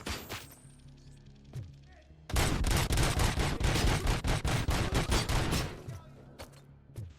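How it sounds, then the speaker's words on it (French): Machine gun fire in the video game RoboCop Rogue City comes as a loud, sustained rapid burst of shots lasting about four seconds, after a quieter stretch of game sound. "Là-bas, c'est une mitraillette."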